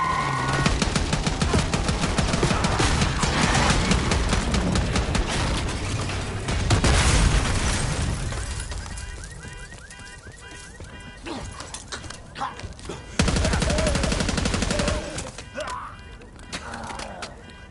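Gunfire in Call of Duty Black Ops 6, sustained loud automatic bursts and rapid shots over a street chase with a limousine, dense at first, thinning into scattered volleys, then a renewed heavy burst near the end.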